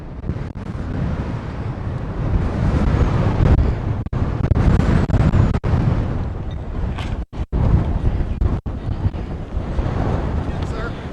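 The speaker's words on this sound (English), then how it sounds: "It is windy out here today. Yeah, you can see the trees blowing." Strong wind buffets the microphone outdoors in a public place, a loud continuous roar broken by a few brief dropouts, with trees blowing nearby.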